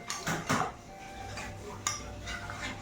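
Food is stirred in a metal pot with a spoon, with clattering scrapes and clanks: a cluster of loud knocks near the start, a sharp clink a little later, and quieter scraping in between.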